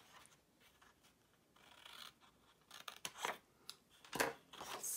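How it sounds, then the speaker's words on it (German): Scissors snip through cardstock for a one-sheet greeting card box, a series of quiet crisp cuts that grow quicker and louder toward the end, with no talk. "ich schneide das jetzt lieber mit der Schere raus"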